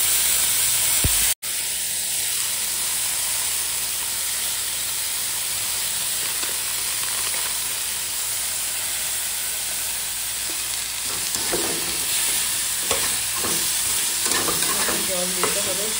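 Cumin paste frying in a pan with turmeric and coriander powder, a continuous hissing sizzle with stirring scrapes, interrupted by a brief dropout early on, louder clatter toward the end.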